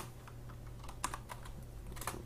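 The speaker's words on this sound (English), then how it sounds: "Then you're going to press F10 on your keyboard" Computer keys click softly: a few scattered presses, including the F10 key, with one sharper tap near the middle. They sit over a low, steady room hum and are faint and close.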